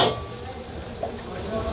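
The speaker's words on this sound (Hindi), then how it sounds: "फ्लेम हाई करके इसे अच्छे से मिक्स कर देंगे।" Egg schezwan noodles stir-fried in a pan over high flame, a continuous close sizzle with light scraping and stirring throughout.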